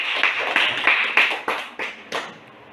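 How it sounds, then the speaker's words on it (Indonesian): A classroom of students claps in a group, about eight distinct bursts of hand claps in a loose rhythm, close and fairly loud, with no voices over them. "Tepuk tangan dulu."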